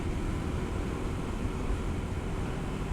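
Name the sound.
Kawasaki KLX300 dual sport motorcycle engine in top gear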